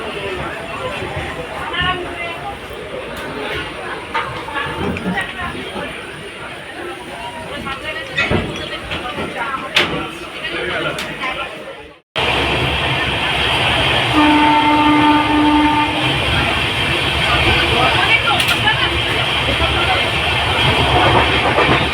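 A train passes through Santragachi station on the Shalimar to Puri route, with a steady loud rumble of wheels and carriages; a short two-tone horn sounds partway through, and voices talk in the first half.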